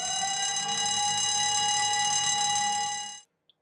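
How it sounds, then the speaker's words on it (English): A site evacuation alarm sounding from the weighbridge of a wood materials delivery yard: a steady, loud electronic tone of about three seconds that cuts off abruptly, followed by silence. "an evacuation alarm will be triggered from the weighbridge, which sounds like this."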